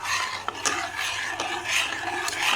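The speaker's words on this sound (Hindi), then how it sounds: "अच्छे से मिक्स कर लेंगे ताकि इसमें कोई भी गुठली वगैरह ना बने।" A spoon scrapes and rasps steadily as custard powder is stirred into hot milk in a pan, with close, continuous swishing strokes and no talking.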